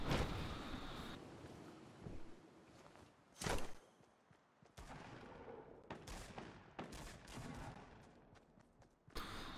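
Bursts of gunfire in the video game Fortnite, with several loud sharp shots scattered through the passage, one heavy blast standing out, amid game background noise and footstep-like sounds.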